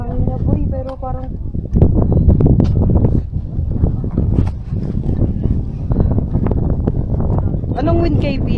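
Strong gusting wind on the Ambangeg trail of Mt. Pulag buffets the microphone in a loud, low rumble that runs steadily throughout, with hikers talking and shouting over it.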